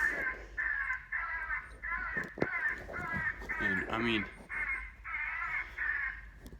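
A crow call and answering crows in the woods produce a run of loud, rhythmic caws in quick bursts, with someone speaking briefly partway through.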